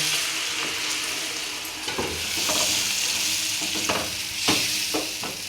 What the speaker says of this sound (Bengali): এবার একটু জল দেবো একটু জল দেবো